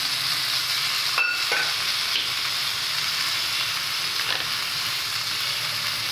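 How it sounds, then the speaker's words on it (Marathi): Amti ingredients (peas, drumstick, ground peanuts, salt) being sautéed in a pan give a steady, bright frying hiss throughout, with a couple of faint stirring scrapes near the start and middle. "मस्त व्यवस्थित ती परतून घ्यायचे"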